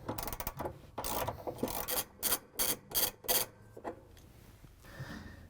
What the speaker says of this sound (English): we're going to use a ratchet with the extension and the 9/16 inch socket to take off the nut that holds the pulley on